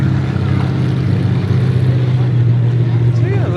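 A pro stock full-size demolition derby car drives past near the pits, its engine a loud, steady low drone throughout with no voices.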